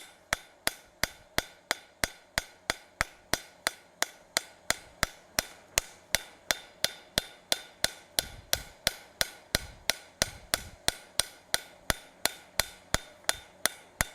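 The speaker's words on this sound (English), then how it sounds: "the colder this gets, the harder you have to swing the hammer" Hammer blows ring out on a metal maple leaf bowl being forged, a steady, evenly paced run of about forty sharp, close metallic strikes, each with a short bright ring, heard alone with no voices.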